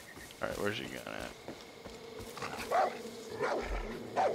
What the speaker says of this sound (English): What do I hear? A dog.